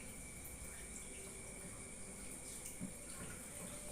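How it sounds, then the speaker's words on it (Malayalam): Liquid French clay soap mixture pours steadily into a mould, a continuous soft wet trickle heard close and even, with no voices over it. "ഇനി ഇത് നമുക്ക് നമ്മുടെ മോഡലിലേക്ക് ഒഴിച്ചു കൊടുക്കാം"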